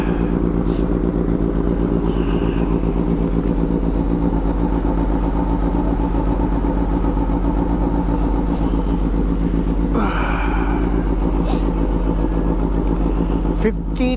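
A motorcycle engine idles steadily while warming up outside a burger place before the ride home, a continuous close low rumble throughout with brief higher bursts, and people talking faintly over it.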